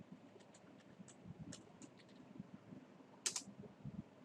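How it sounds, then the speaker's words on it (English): A computer keyboard is typed on quietly while entering Java source code, soft irregular keystrokes with an occasional sharper click, close and alone. "type the source code of program"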